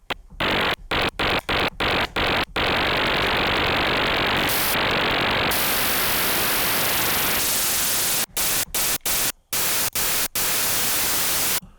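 Harsh static noise from a Dexed DX7-style FM synthesizer in bursts, first chopped into rapid stuttering pulses, then a sustained hiss that shifts in tone before breaking into short gated bursts again.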